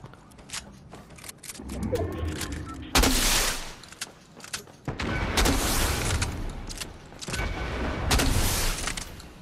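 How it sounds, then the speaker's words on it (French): Fireworks in the video game Fortnite, several loud bursts and crackling booms spaced a few seconds apart, each with a hissing wide spray, over faint game background noise. "C'est toi les feux d'artifice?"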